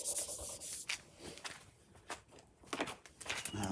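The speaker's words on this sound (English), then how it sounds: "give it a good rub to make sure it sticks" Face tape being rubbed firmly onto a damaged cricket bat during repair: close, dry scuffing and rubbing strokes in irregular bursts, with a few sharper scrapes, no talk.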